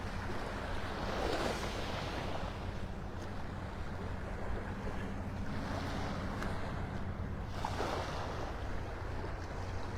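Waves wash over sandbars in slow surges, heard at a distance beneath steady wind rumble on an open beach at Delnor-Wiggins, North Naples, Florida.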